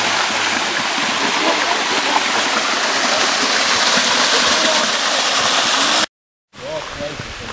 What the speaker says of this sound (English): Little creek crossing here